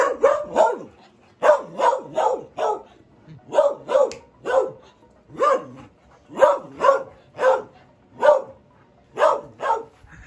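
Dogs bark repeatedly while out on a walk in cold weather, a string of sharp, close barks in bursts of two or three with short pauses between, loud and steady.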